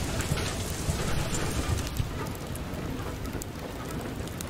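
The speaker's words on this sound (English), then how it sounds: "Oh, here comes yet another storm. Oh, is this hail now?" Hail and storm rattle down in the video game Far: Lone Sails, a dense continuous patter of pellets with low rumbling beneath, steady and close throughout.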